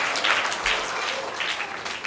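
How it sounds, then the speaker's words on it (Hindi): Audience applause for Surendra ji at a Jain religious class session in Pune, a steady patter of clapping from a seated crowd lasting about two seconds at moderate level. "ताली बजाओ सुरेंद्र जी के लिए"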